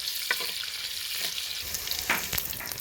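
Onions fry in a pan for a Kerala-style bangude fish curry, a dense close hiss of sizzling oil with a few stirring scrapes, steady and unbroken.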